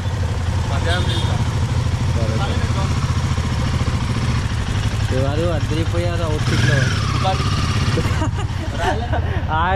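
A motorcycle engine runs with a steady low rumble throughout while riders in Goa talk over it with frequent chatter.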